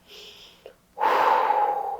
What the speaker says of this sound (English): just to get a sniff